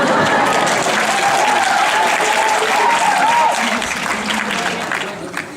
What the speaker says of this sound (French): On l'applaudit encore une fois s'il vous plaît.